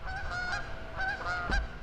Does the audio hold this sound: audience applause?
no